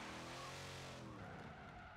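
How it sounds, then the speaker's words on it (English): A drift car warming its tyres before a Pro-Am qualifying run, its tyres squealing loudly and continuously over a roaring engine, close and steady for the whole stretch. "Warming those tyres up now."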